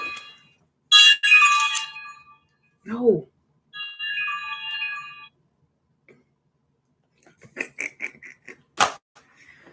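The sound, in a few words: phone ringtone ringing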